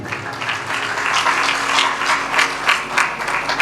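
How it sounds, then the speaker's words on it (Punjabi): An audience at a sermon claps loudly and continuously, a dense, steady patter of many hands. "ਤਾਲੀ ਮਾਰੀਏ ਜ਼ੋਰ ਦੀ।"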